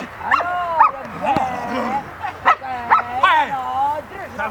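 A dog in training gives a string of short barks and yelping whines on command, loud and close, with a handler's voice mixed in between the calls.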